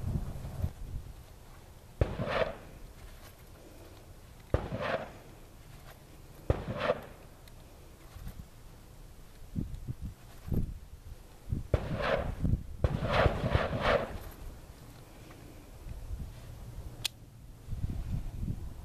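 Smith & Wesson Model 10 revolver fired single action at a downrange target, sharp loud shots spaced a few seconds apart, some in quick pairs, with quiet handling and footsteps between them.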